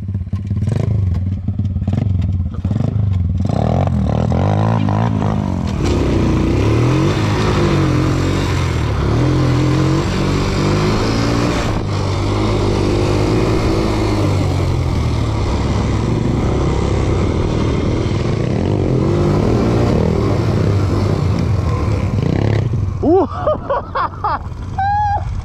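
A motorcycle with a bent handlebar and tail section revs loudly and steadily for a long stretch, its engine note rising and falling under continuous roar, with clattering and thuds near the end.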